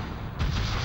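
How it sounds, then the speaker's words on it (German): Spyro's earth shot attack in The Legend of Spyro: A New Beginning fires against attacking training dummies as a single short, heavy thudding burst that hits midway and rumbles briefly. "Drücke Quadrat, um mit einem Erdschuss auf die angreifenden Attrappen zu schießen."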